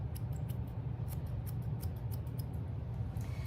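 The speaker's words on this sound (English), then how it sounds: "then I'll go back over with my scissors" Small grooming scissors trimming a dog's coat, a rapid run of crisp, close snips over a quiet low hum.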